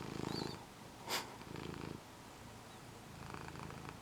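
Close, quiet purring from a pet cat, soft rhythmic rumbling in short pulses with a brief snort-like breath in between, no talking.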